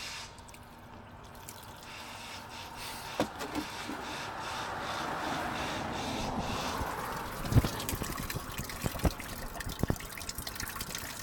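Water poured by hand into a Jeep XJ's cooling system to flush the coolant without a hose: a steady, moderately loud pouring wash with splashes, drips and a few sharp knocks partway through, and no talking.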